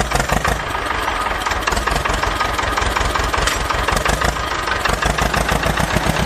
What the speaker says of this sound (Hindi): मिनी ट्रैक्टर, चलो बेटा आराम से चालू हो जाओ